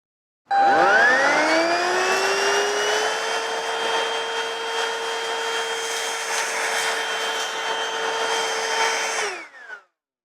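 A Ryobi One+ or Hoover Cruise cordless stick vacuum switches on, spinning up with a rising whine into a steady loud motor hum with a high-pitched tone, running continuously for about nine seconds before cutting off.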